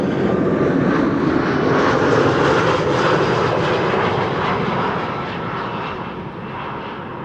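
An airliner arriving at Amsterdam Schiphol from London Luton on a frosty, sunny December day roars loudly overhead, its engine noise thick and sustained before slowly easing as it passes.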